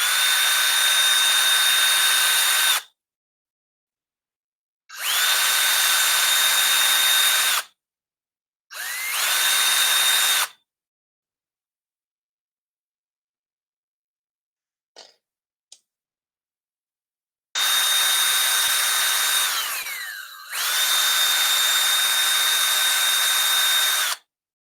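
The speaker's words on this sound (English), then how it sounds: "This is going to need to be drilled as well." A power drill whirs in several bursts while boring into a frame part for an ant PCB maker, loud and close, with spells of silence between runs, a few faint clicks, and one run that dips in pitch briefly.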